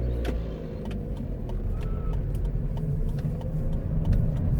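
A car engine rumbles low and steady as the vehicle pulls away and drives off, swelling slightly near the end, with faint road noise and no speech.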